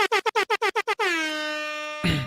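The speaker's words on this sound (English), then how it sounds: "Air horns." Air horn blasts sound in a rapid rhythmic burst of about nine short honks, then one long sustained blare, loud and close, ending with a brief noisy hit.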